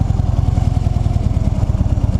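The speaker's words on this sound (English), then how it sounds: "Engine on the bike is a 103." A motorcycle with a 103 engine runs steadily close by, its loud, lumpy low-pitched throb pulsing in an even rapid rhythm.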